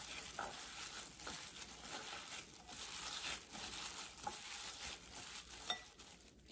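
Sweet flattened-rice pohe with cardamom powder being mixed in a pan, giving steady soft scraping and crinkly rustling with a light sizzle, close and fairly quiet, with no talking.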